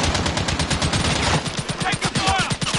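A rifle in a video-game firefight lets off rapid, loud, close bursts of gunfire, shots cracking in quick rhythmic succession with brief gaps between volleys.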